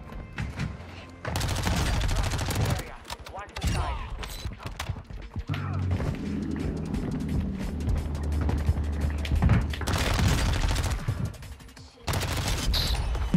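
Gunfire in the Warzone 2 video game, heavy automatic bursts and rattling fusillades with a TAQ-V rifle that come in loud waves with brief gaps over about thirteen seconds.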